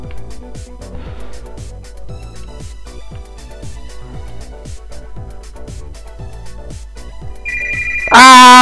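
In the game Greyfox, a cell phone ringtone bursts in loudly near the end, cutting over a rhythmic, plucky background music loop.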